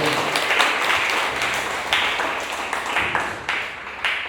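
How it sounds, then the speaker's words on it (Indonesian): A congregation applauds at a wedding ceremony in a church, with a full round of clapping that starts at once and slowly thins, with a few louder bursts near the end. "Mari kita beri tepuk tangan."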